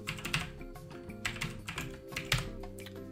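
Keys on a computer keyboard are pressed in a quick uneven run of soft clicks, close and fairly quiet, with a faint steady hum underneath.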